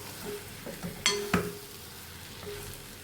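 A bitter gourd dish is stirred in a pan over a steady low sizzle, with a couple of sharp utensil clinks against the pan partway through.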